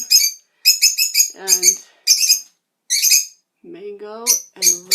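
Pet lovebirds in a breeding setup with a fresh nesting box chirp and squawk excitedly, loud close bursts of shrill calls coming in quick clusters with brief pauses between them.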